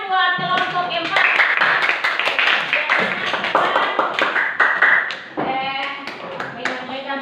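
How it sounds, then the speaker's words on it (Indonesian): A classroom of children clapping their hands together for a group, with a burst of dense, quick claps mixed with a teacher's voice and some chatter. "Oke, kita tepuk tangan buat kelompok 4."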